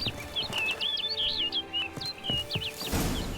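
A bird in The Witcher 3: Wild Hunt chirps in a series of quick, bright warbling calls over steady ambient game sound and soft background thuds.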